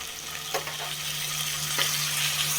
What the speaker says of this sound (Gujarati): આપણો ભીંડો ચડી ગયો છે તો હવે એમાં આપણે ટમેટાં ઉમેરીશું